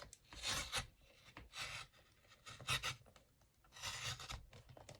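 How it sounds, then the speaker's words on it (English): Paper cut from a junk mail envelope is trimmed with a cutter, making soft rasping scrapes in short repeated bursts, quiet and close. "Just gonna have a little trim just like that."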